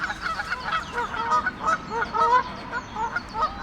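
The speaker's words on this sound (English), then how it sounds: "the geese are clearly front and center, foreground" A flock of geese honking close by, with overlapping nasal calls in quick, uneven bursts.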